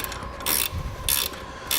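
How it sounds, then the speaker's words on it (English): A 13mm ratcheting wrench tightening a bolt while installing a louvered tailgate on a truck, with two short bursts of close, crisp ratchet clicking over a quiet background. "to tighten this up, I'm using a 13mm ratcheting wrench"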